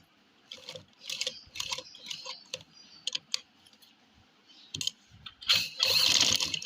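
A sewing machine stitches a men's kurta with golden, cream-coloured thread in short bursts of quick mechanical clicking and ratcheting, separated by quiet pauses. The final burst is louder.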